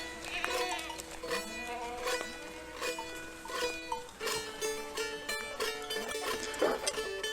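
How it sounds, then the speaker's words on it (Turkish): Goats and young kids bleat on a farm in the early evening, with pregnant goats waiting to give birth; several overlapping, fairly loud bleats come close together with no talking. "Doğum yapmayı bekleyen keçilerden kendini kurtarmış oğlaklara doğru geçtim."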